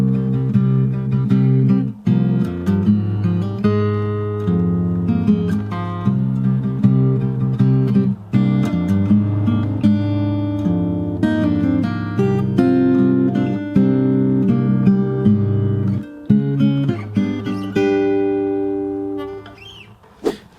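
Fingerstyle acoustic guitar plays a six-bar passage of a theme, with bass notes under picked melody, up close and unaccompanied, slowing and fading at the end.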